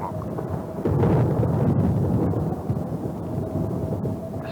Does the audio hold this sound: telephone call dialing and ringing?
no